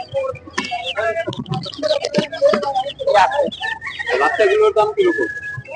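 Indian-breed chickens at Kaptan Bazar bird market cluck and squawk loudly and close, in irregular bursts, amid a busy market din.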